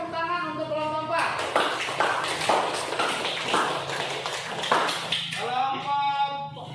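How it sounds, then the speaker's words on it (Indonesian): Students in a classroom clap for a group's presentation, a burst of sharp, fairly close handclaps between stretches of a teacher speaking. "tepuk tangan untuk kelompok 4"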